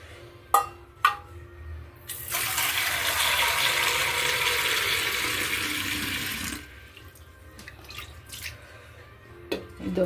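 Water pours into a steel vessel for quick cooling of raagi java: a few metallic clinks at the start, then a steady splashing rush for about four seconds that stops abruptly, followed by scattered drips and small taps.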